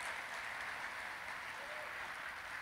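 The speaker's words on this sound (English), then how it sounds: "One more round of applause." An audience at a school Veterans Day program claps steadily in a continuous patter of applause, heard at a modest distance without a break.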